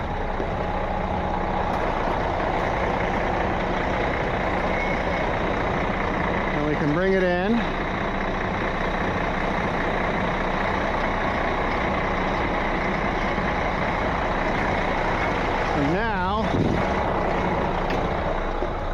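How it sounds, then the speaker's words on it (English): A heavy tow truck pulls in with its air brakes released, its diesel engine rumbling steadily and close throughout, with a couple of brief whining tones rising over it while someone speaks a few words. "So we can release the brakes now."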